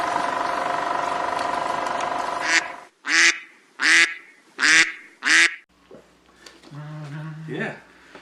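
A human voice imitates a duck, giving four loud, evenly spaced quacks right after a stretch of talk, with more speech following.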